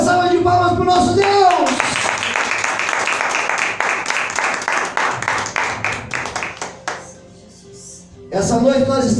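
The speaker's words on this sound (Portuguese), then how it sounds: "Dê uma salva de palmas para o nosso Deus." A church congregation claps in a quick, steady rhythm that fades into a brief lull. A preacher's voice is heard at the start and again at the end.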